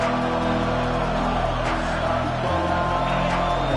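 Home crowd cheering in a Notre Dame football stadium during a third-down defensive stand, a dense, loud, sustained roar with whoops, alongside low rumbling broadcast noise.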